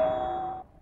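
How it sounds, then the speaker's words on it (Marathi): A doorbell in a home gives a single ringing chime that sustains clearly and then cuts off abruptly, heard alone. "घंटी वाजली म्हणून सुटली."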